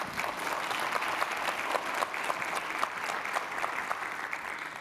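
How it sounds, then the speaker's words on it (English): An audience at a panel event breaks into sustained applause, a dense, even wash of many hands clapping at moderate volume throughout, with no talking over it. "you can clap."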